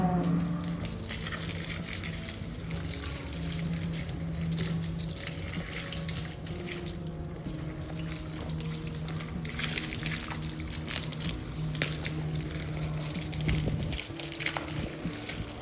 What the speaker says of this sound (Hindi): ये एक प्रॉब्लम हो गई है, यहाँ से लीक कर रहा है पानी।